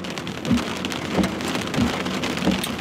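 Rain falls steadily and heavily on surfaces during a thunderstorm, making a dense continuous patter with low rumbles swelling now and then beneath it.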